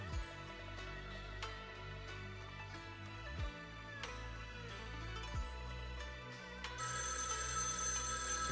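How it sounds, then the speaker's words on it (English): A telephone rings in the video game Zenless Zone Zero: a tonal ringing melody repeats over low sustained background music, fairly quiet and steady, with a brighter ringing layer joining toward the end. "The phone suddenly rings."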